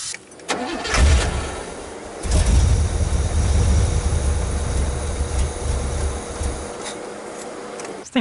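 A 1986 Oldsmobile Cutlass, revived after sitting five years, cranks and catches on starter fluid, then runs with a rough, loud idle before cutting off; a second start follows.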